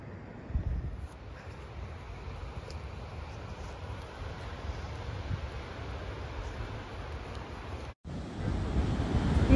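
Ocean surf roars in a continuous wash on the Oregon coast, with wind buffeting the microphone loudly and a brief dropout near the end.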